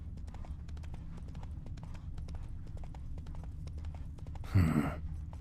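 Roach, a horse in the video game The Witcher 3: Wild Hunt, galloping with a rapid, steady stream of hoof clip-clops close by, followed near the end by a brief louder snort or whinny.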